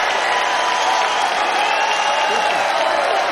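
A large political rally crowd applauds and cheers steadily throughout, a dense continuous wash of clapping and shouting with no break.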